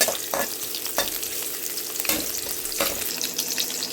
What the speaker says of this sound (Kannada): ಈಗ ಆನಿಯನ್ ಒಂದು ಹೆಚ್ಚಿಟ್ಕೊಂಡಿದ್ವಲ್ಲ ಅದು ಹಾಕೋಣ. ಇದನ್ನು ಚೂರು ಫ್ರೈ ಮಾಡ್ಕೊಬೇಕು.